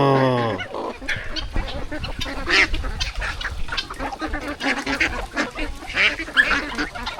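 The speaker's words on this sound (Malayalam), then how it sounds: "താറാവ് കുഞ്ഞുങ്ങൾ" Ducklings quack and peep in a rapid, overlapping chorus at close range, with loud bursts scattered across the whole stretch.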